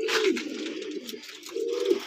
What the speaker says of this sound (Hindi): ये जो कबूतर है देखो, ये लाल चीना कबूतर है ना